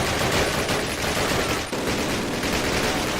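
Dense, sustained automatic gunfire from a World War II-era weapon in Call of Duty Classic, loud and continuous with overlapping shots and a brief dip partway through.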